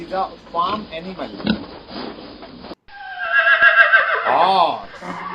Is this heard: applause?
no